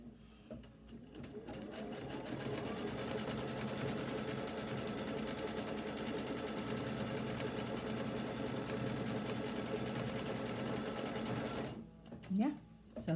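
An embroidery sewing machine runs a placement stitch for a folded-fabric quilt block, humming with a steady rapid needle rhythm for most of the stretch before stopping, with a brief voice near the end.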